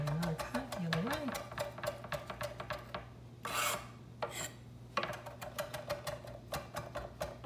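Knife chopping flat-leaf parsley on a board, a run of quick rhythmic chops fairly close, with a brief rasping scrape partway through and talk over parts of it.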